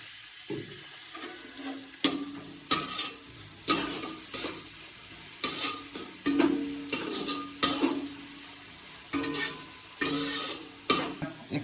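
Onions with salt fry in a pan, a soft sizzle broken by repeated stirring scrapes every second or so, close and moderately quiet, with no voices.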